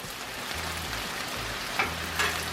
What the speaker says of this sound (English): So I think we're going to put the beef back with the veggies.